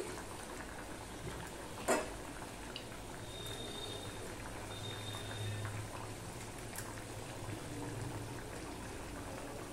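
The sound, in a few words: rui fish curry gravy boiling as fish added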